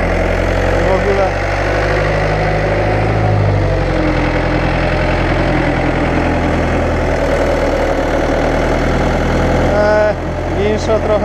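A farm vehicle engine runs steadily while driving, a loud continuous low rumble with a knocking idle character that holds for about eleven seconds, with a brief change near the end.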